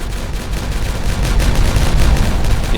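A loud, sustained rumbling explosion from detonating in the city-building game Timberborn, with dense crackling bursts rolling continuously for nearly three seconds, nearby and alone without voices.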